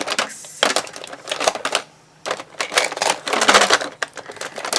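Craft supplies for card making clatter and rustle in loud bursts close by: packaging crinkles and small items tap and click. The bursts are irregular and broken by a brief quiet gap.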